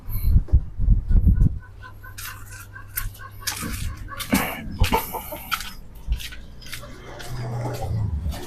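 Neighbourhood chickens outside, clucking in short, scattered bursts amid background noise, moderately near, with no talk over them.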